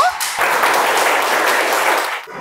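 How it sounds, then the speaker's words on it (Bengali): Applause for a student at Central Government Boys High School, a steady burst of clapping filling the room for about two seconds before tapering off, with no talk over it. "হাততালি হবে ওর জন্য"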